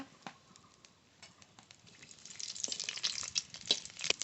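Whole cumin seeds, dried chillies and bay leaves crackle and sizzle in mustard oil in a pan, a soft steady frying hiss with scattered sharp pops that grows louder and busier toward the end.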